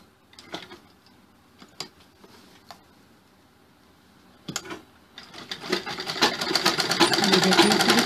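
A sewing machine stitches a Chinese-collar sherwani suit, starting with a few isolated clicks and ticks before building into a loud continuous run.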